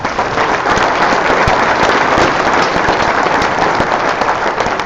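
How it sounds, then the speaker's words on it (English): An audience at a high school sports awards event gives a loud, sustained round of applause, a dense wash of clapping filling the whole stretch with no voices over it. "Let's give them one more round of applause."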